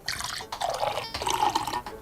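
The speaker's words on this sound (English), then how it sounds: "I'm going to pour one after the other into a different glass" Cold water pours into a glass in two close bursts, a bright, bubbly trickle rising in pitch as the glass fills, with a short pause between pours.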